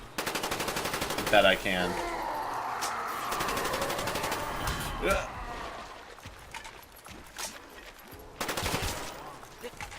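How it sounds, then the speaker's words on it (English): Automatic AK rifle gunfire from Call of Duty: Black Ops 1 Zombies, on the Call of the Dead map, comes in bursts of rapid shots with game effects, under frequent talk from a nearby player. "I bet I can get him down with the AK."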